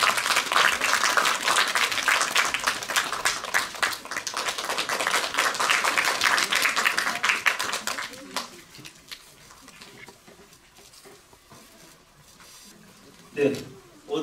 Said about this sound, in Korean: 여러분 황윤길 대회장님을 큰 박수로 맞이해주시기 바랍니다.